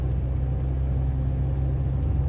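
A car's engine driving steadily in third gear on a manual gearbox along country mountain roads, a continuous low rumble that stays even and close throughout.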